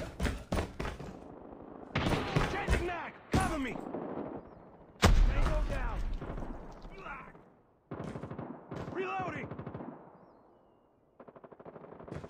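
Gunfire in a video game comes in several loud, sharp bursts and single shots separated by short pauses. A voice shouts over part of it.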